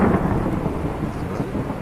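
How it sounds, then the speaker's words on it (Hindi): Heavy rain pours in a dense, continuous roar with deep rumbling thunder underneath, loud and steady throughout, with no voices, as a storm sound effect for a village story. "बारिश की हल्की बूंदें अब तेज होती जा रही हैं।"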